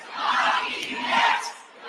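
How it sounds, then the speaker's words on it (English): A large political rally crowd breaking into a rising chant, a dense wash of many voices swelling and easing through the whole stretch with no single speaker standing out. "The crowd is like starting a chant."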